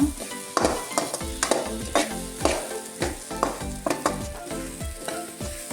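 Garlic frying in a pan until reddish, stirred throughout: a continuous loud sizzle broken by regular scraping strokes about twice a second, close up with no talking.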